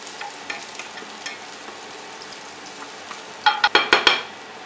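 Garlic hitting hot oil in a pan for a pork tenderloin dish, starting with a faint low sizzle and then a few sharp bursts of crackling and stirring near the end.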